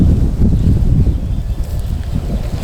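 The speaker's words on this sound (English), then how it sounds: "It's a little windy out here" Wind gusting outdoors in a garden during strawberry planting, a steady low rumble of buffeting against the microphone that swells and dips slightly throughout, with no talking.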